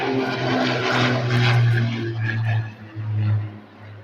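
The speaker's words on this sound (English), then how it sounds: "oh, there's a plane coming by." A small propeller aircraft passes overhead, its engine drone loud and steady for several seconds before fading slightly, heard outdoors in a garden with no talk.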